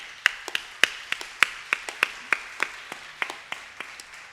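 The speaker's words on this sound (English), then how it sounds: "let's give a round of applause for Sri Kumar Babu on the flute" Sparse audience applause for flute player Sri Kumar Babu at a Carnatic music concert, a handful of distinct claps ringing out one by one in an irregular rhythm, clear and reverberant with no talking.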